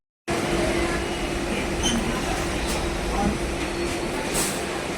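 A steady, loud rumble of a moving train, heard from on board while crossing high above the ground, fills the clip after a brief silent start, with faint rattling and clanks over the continuous roar.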